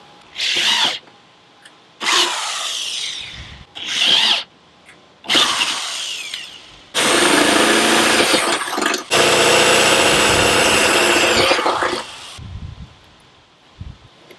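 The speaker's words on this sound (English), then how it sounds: "I drilled 1/8 pilot holes into all 4 marks" An electric drill whines through wood in a series of bursts, short ones first and then two long runs, close and loud, boring 1/8-inch pilot holes for a roof rack.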